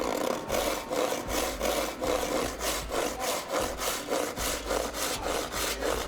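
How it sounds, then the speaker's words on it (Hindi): A hand saw cuts through a Shera board with steady back-and-forth strokes, about two per second, producing a loud, close rasping rhythm that continues throughout without any talking. "अरे जरा अपने थैले से आरी निकालिए।"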